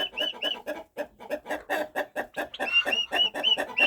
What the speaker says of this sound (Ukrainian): Півень там воно австралор свариться.